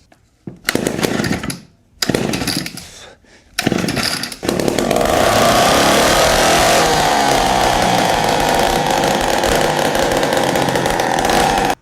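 A chainsaw engine mounted on a motorized bike, left unused for about two years, sputters through a few short starting attempts, then catches and runs steadily with a loud, buzzing two-stroke whine close by.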